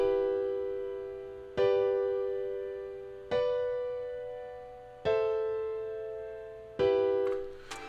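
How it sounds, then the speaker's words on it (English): Four sustained triad chords in a basic 1-3-5-4 progression, played on a software instrument in FL Studio 24, each struck cleanly and left to decay for about two seconds before the next. "And this is a basic 1, 3, 5, 4 triad chord progression, and it sounds like this."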